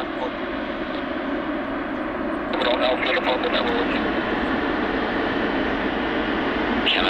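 An Air India Boeing 777 taxis at an airport, its jet engines making a loud, steady, close roar. Air traffic control radio talk runs over the roar.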